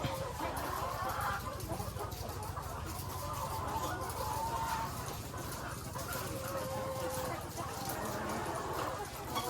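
Chickens cluck steadily at an egg-layer farm with cages, with a rooster among the flock, while someone talks over the birds.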